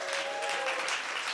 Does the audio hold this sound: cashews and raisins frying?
no